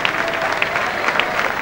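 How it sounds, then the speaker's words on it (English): Audience applause greets the third-place winner of a Lovely Legs contest at a Mosney holiday camp show, a steady, fairly loud patter of clapping throughout with crowd noise and a faint voice mixed in. "A nice round of applause for the young lady as she comes out"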